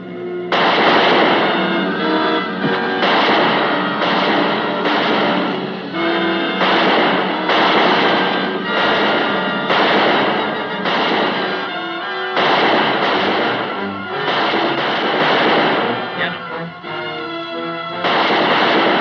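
Revolver gunshots in a frontier-era Western TV drama ring out as a dense run of sharp reports, roughly one every second, loud and close over a busy, continuous backdrop.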